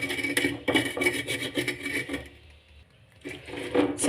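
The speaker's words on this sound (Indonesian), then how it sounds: "Selanjutnya kita haluskan dulu bumbunya." Spice paste for spicy oseng kikil buncis is ground by hand, a rough rasping rub repeated in quick strokes, pausing briefly before resuming, close up with no talking.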